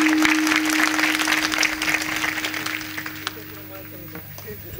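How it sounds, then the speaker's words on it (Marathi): Loud, sustained applause from a large kirtan audience, steady at first and gradually thinning toward the end, with voices and a held tone carrying underneath. "एकदा जोरदार टाळ्या होऊ द्या"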